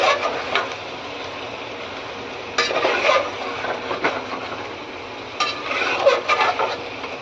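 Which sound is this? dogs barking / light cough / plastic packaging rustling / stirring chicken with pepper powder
stirring chicken with pepper powder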